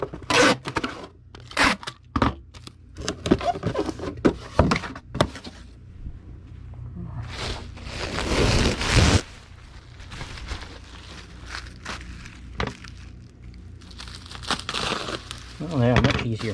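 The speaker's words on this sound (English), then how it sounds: "we'll see if the bubble wrap is easier to cut in half this time" Bubble wrap being cut in half while packing eBay parcels gives off repeated crinkling, crunching and scraping bursts, close and irregular, with brief pauses and quieter handling noise in between.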